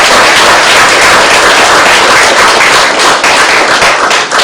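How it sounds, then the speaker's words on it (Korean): Loud, dense applause from an audience at a Buddhist sermon on the Diamond Sutra, a steady wash of many hands clapping close by for the whole stretch, with no talking over it. "알았으면 박수를 쳐요."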